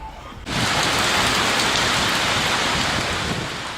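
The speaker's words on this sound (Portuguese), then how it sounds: "Chove forte em Novo Hamburgo, nesse momento" Heavy rain pours down on a street in Novo Hamburgo, Brazil. It starts suddenly as a loud, dense, steady hiss of falling water and stays constant after a quiet first half-second.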